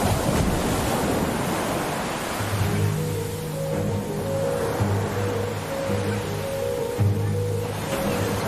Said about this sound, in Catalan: Les onades ja peten